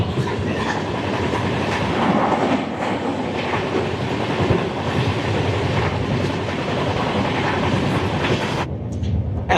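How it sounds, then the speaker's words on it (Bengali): The Garib Rath Express from Agartala to Kolkata runs at speed near Baharampur bypass, a loud continuous rumble with rhythmic clatter of wheels over rail joints, cutting off abruptly near the end. "একশো 3 অব্দি উঠে গেল ট্রেনের স্পিড।"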